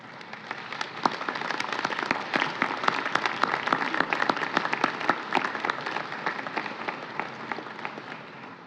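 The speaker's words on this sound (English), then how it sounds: "give them a big round of applause" An audience at a scholars' induction ceremony applauds the students, many hands clapping in a crackling, sustained round that stays fairly even throughout before easing slightly at the end.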